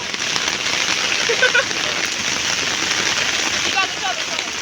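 Steady rain patters and hisses on surfaces throughout, fairly close, with faint voices in the background.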